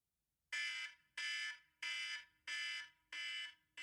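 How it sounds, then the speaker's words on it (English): An electronic alarm used to mark the end of a timed segment sounds five times in a regular rhythm, each long, shrill, piercing beep fading slightly before the next, loud against near silence. "And when the alarm goes off, which is going to sound like this."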